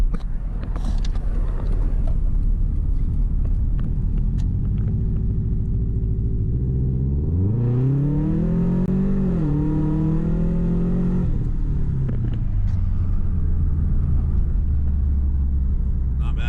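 A BMW E30 fitted with an LS V8 engine accelerates hard in sport mode, its deep exhaust rumble climbing in pitch through a sustained rev, easing briefly, then settling back to a low idle-like drone.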